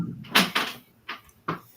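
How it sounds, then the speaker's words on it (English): Cabinet drawers sliding open and shut in a home, several short wooden knocks and scrapes in quick succession, close and fairly soft, with no talk over them. "Sorry if you can hear drawers going."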